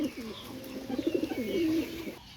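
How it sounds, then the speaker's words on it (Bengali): Pakistani high-flying pigeons cooing close by, one bird giving a rolling, warbling coo that rises and swells over about two seconds before stopping. "কবুতরটা দেখতে পারেন"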